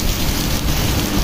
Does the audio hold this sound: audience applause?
no